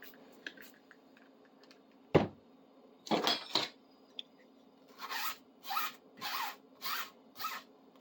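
Dirt being scraped off an old bastard file during a restoration: a sharp knock, then rough scraping strokes, followed by a steady series of five or six short rasping passes, close and fairly quiet.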